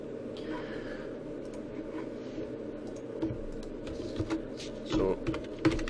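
Someone types on a computer keyboard, with soft, uneven bursts of key clicks over a steady low hum, growing slightly busier toward the end.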